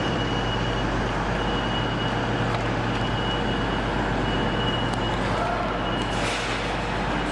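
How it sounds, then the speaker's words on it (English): Sleeper train arrived from Glasgow at a railway station, a steady broadband rumble of idling rolling stock and station ambience with a constant low hum, continuous and fairly loud throughout. "The sleeper is here, it's just arrived from Glasgow,"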